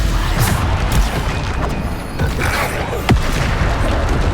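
Bombarda blasting spells in Hogwarts Legacy, a video game: several booming impacts and crashes at irregular intervals, with a sharp hit near the end, over a continuous loud roar of combat.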